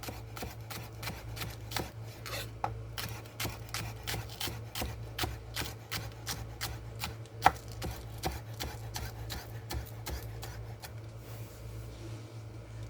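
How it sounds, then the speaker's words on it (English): Green onions are thinly sliced with a knife on a cutting board, a fast, even run of crisp taps close by with no talk. "2 of these green onions or scallions, thinly sliced"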